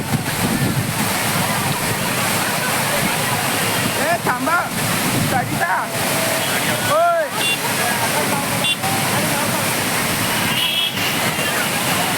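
Steady roaring rush of a waterfall at Bhaje village below Lohagad and Visapur forts fills the whole clip, with voices talking briefly over the constant water noise.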